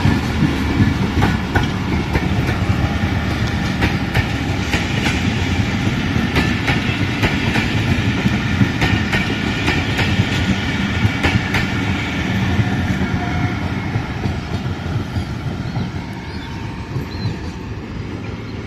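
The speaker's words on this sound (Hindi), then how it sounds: "ये डिपार्चर था टू डाउन खैबर मिल का रावन जंक्शन से।" The 2 Down Khyber Mail express departs Raiwind Junction, a loud continuous rumble of rolling railcars with rhythmic clickety-clack of wheels over rail joints, steady and close for the whole stretch.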